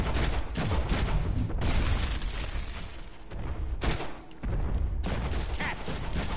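Dense video-game gunfire from a Deadpool game, with sustained bursts of shots and booms, loud and continuous with brief lulls.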